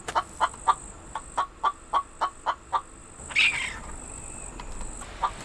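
Chicken clucking in a video game: a steady run of about a dozen short, evenly spaced clucks, then a brief squawk-like burst and one final cluck, with no talk.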